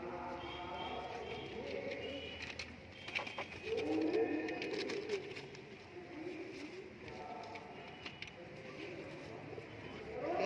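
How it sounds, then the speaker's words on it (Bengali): Giribaz pigeons coo close by in soft, repeated rolling calls over a low background murmur. "এটা পায়রা দেখতে পাচ্ছ।"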